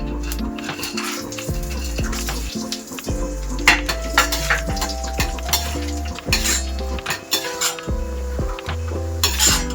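Cashews roasting in a pan for chivda, with a soft frying sizzle under frequent metallic clinks and scrapes of a spoon stirring against the pan, close and busy throughout.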